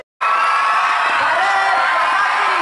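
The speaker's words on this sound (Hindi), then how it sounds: "आप तालियों के गड़गड़ाहट से सुन सकते हैं कि" Audience at a school institution gathering cheering and whooping during the Chandrayaan 3 soft landing, a loud, dense wall of crowd noise with children's shouts, sustained after a sudden start.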